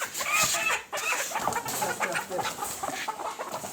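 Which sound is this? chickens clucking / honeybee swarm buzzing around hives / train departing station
chickens clucking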